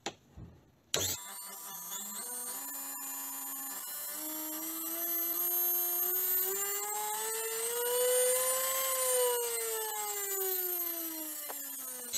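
A homemade lathe driven by a washing machine motor clicks on and spins up with a rising whine, then runs steadily with a hum whose pitch slowly climbs and dips, alone and close by.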